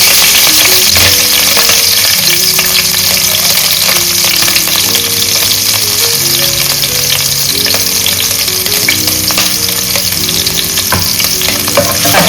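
Green chillies frying in very hot oil for fish cutlets, a loud, dense, crackling sizzle that spits and pops without letting up, with an underlying steady hum close by.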